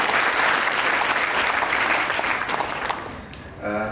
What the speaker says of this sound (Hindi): एक बार जोरदार तालियां आप सभी को।